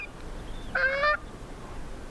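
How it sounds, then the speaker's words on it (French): Wild geese courting on open water give one short, clear honking call in the middle of a quiet, faintly breezy outdoor scene. "dans un espace d'eau libre, des oies sauvages se font la cour"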